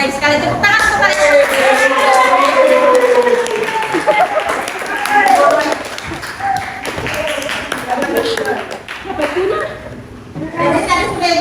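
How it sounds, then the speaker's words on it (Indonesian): A classroom of children clapping their hands together, rhythmic clapping and chatter heard close, mixed with a teacher speaking and kids' voices throughout. "Tepuk tangan untuk kalian"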